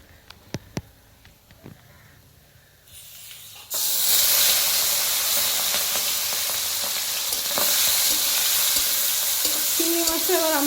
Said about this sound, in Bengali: চিংড়ি মাছটা এবার আমরা একটু হালকা করে ফ্রাই করে নেবো।